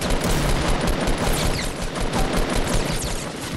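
Sustained gunfire in the Fortnite video game, a dense continuous burst of rapid shots and fusillade that stays loud and close throughout with no talking.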